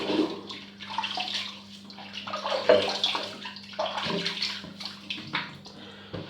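Water runs from a tap, rinsing soap away in a bathtub or sink, a close, continuous splashing stream with a faint steady hum underneath.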